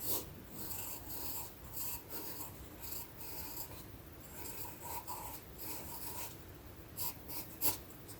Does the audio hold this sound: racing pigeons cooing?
no